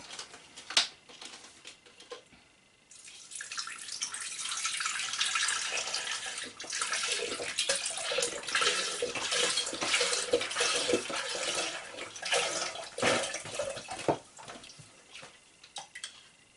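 One liter of pure apple juice pours into a Thermomix bowl as a continuous splashing stream, starting after a few seconds of light clatter, close and moderately loud, with no talk.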